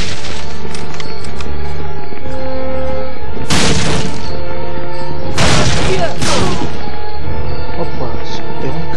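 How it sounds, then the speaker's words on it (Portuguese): Pistol shots in Medal of Honor Frontline on PS2, a few loud sharp bursts at about 3.5, 5.5 and 6 seconds ringing out over steady game background sound and music. "Vou usar a pistola para atirar nela."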